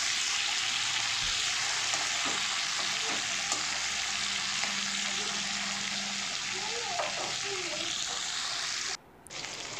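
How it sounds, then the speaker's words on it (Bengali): Hilsa fish heads frying together in hot oil make a loud, steady hiss with soft bubbling and a few sputters up close, cutting off briefly near the end. "তেল গরম হয়ে গেছে, মাছের মাথাগুলো সব একসঙ্গেই দিয়ে দিলাম"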